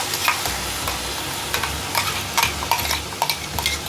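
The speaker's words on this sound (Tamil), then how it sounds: "இப்போ நம்ம அரைச்சி வச்சுருக்கோம் இல்லைங்களா, அந்த பேஸ்ட்டை வந்து இதில் சேர்த்துடலாம்." Ground masala paste fries with onions in ghee for a home-made prawn biryani, sizzling steadily up close while a spoon scrapes and stirs the pan in quick, uneven strokes.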